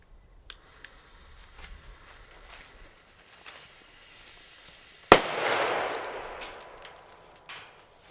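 A Srebrna Piratka firecracker explodes with a single sharp, loud bang midway, followed by a rushing outdoor echo, after quieter scattered outdoor pops and faint background noise.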